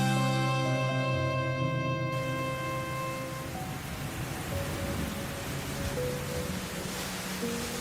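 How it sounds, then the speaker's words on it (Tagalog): Steady, dense rain falls continuously at moderate loudness, a broad hiss that persists throughout, while faint tonal music fades out early on. "Inabutan ka na ng ulan."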